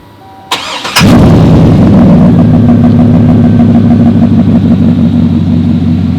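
A Chevrolet Silverado SS pickup's 6.0 engine cranks briefly, catches and roars to life, then settles into a loud, steady, rumbling idle that continues close by.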